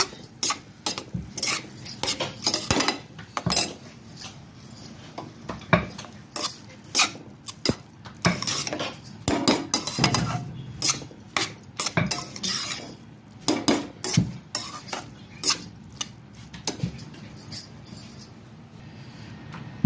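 A spoon scrapes and clinks against a pan while stirring spring roll masala filling with the gas turned off, giving repeated sharp metallic taps and scrapes in an irregular rhythm, close and fairly loud, with no talking.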